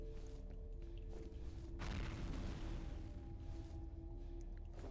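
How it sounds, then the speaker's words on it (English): A grenade goes off in the shooter F.E.A.R., a single muffled boom with a brief noisy blast over steady background game sound, fairly soft and distant-sounding. "He threw a grenade"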